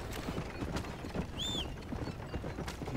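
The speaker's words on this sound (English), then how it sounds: "Horse coming from the front!" Horse hooves galloping in the video game Red Dead Redemption multiplayer, a quiet rapid clatter under a dense noisy background, with a short rising whinny-like tone midway.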